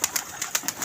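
Pigeons at a rooftop pigeon club give soft repeated coos and flutters, several short bursts close by within under a second.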